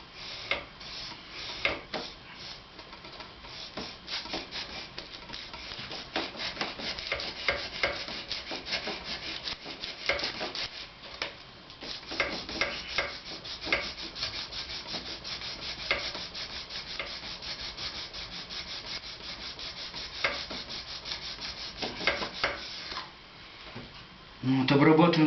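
A metal file rasps back and forth over the reeds of a jaw harp (vargan) to level them, giving a steady rhythmic scraping that runs continuously and close up.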